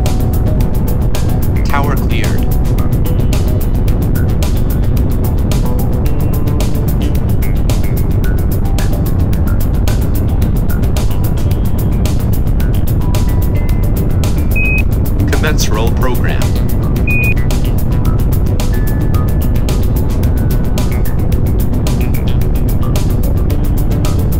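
A rocket's engines start and its booster ignites for liftoff in the SpaceAgency space game, a loud, steady roar with a constant rumble running throughout, under a voice counting down.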